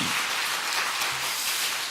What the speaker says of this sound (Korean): 주원이 위해서도 박수 한번 해주세요.